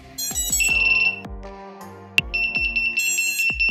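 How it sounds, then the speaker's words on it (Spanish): Loud electronic beeping from FPV drone ESCs powered up with no radio control connected: a run of rising tones with percussive clicks, then a sharp high-pitched beep repeating in a steady, piercing pattern. "Al no tener el radio control conectado escucharíamos estos bips que nos dejarían sordos"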